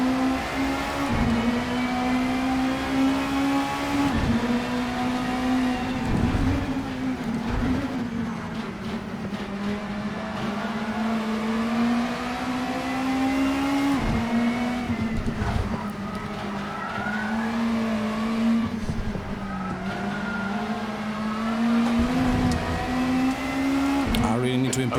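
Super Touring race cars circle a South African track in Assetto Corsa, engines droning and rising and falling through gear changes as several cars run close together, with tire noise and a voice talking over the action.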